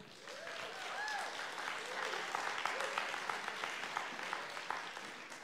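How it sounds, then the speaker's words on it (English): A church congregation at a winter conference gives a sustained round of applause, steady clapping throughout with a few faint tonal voices or cheers mixed in near the start. "let's give the Lord a mighty hand of applause as we start"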